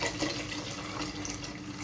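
Mineral water pours steadily into a pot of sardine broth, a close, continuous splashing trickle.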